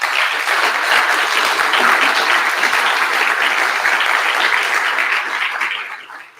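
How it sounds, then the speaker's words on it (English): Sustained audience applause at a PostgreSQL community conference for its sponsors, a dense steady wash of many hands clapping that fades out near the end. "I want to have a really big round of applause for all of our sponsors"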